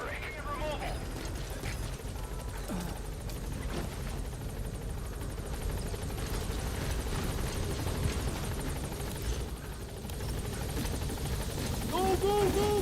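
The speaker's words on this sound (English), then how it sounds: "the chopper's touching down" A helicopter touches down in the Metal Gear video game, its steady rotor roar and rumble filling the whole stretch loudly, with faint game sounds and short chirps over it and the noise swelling slightly near the end.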